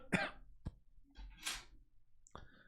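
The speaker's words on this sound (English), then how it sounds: "I don't know why I have a cough today." A few short, quiet coughs and throat clears come close to the microphone, spaced apart with quiet gaps between them.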